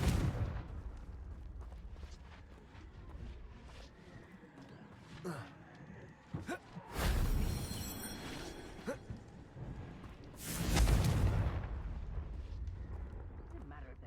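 In the video game Hogwarts Legacy, Confringo blasting spells set off two heavy booming explosions separated by a few seconds, each with a rumbling tail, over quieter crackles and small impacts.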